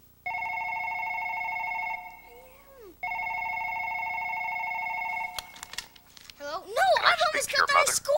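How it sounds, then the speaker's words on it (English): A telephone rings in two long, loud electronic trills separated by a short pause, then stops as a cartoonish voice and chattering sounds take over. "Watch what happens when Clay answers the phone."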